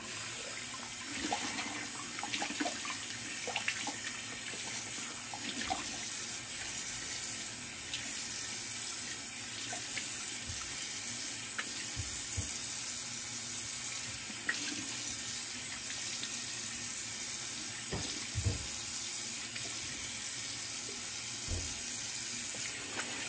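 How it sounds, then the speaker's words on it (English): Cold water running steadily from a tap for a face rinse after a wet shave, a quiet continuous splash with occasional soft drips and handling noises, no talking. "A little cold water rinse."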